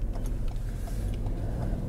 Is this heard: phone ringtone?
no